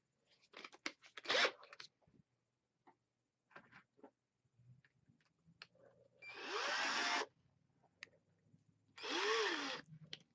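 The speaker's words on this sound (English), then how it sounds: "drill 4 holes just in the rubber" Two sustained, buzzing power-drill bursts, each about a second, drilling small holes in the foam rubber of an RC car tire, separated by quiet rustling and small handling clicks close by.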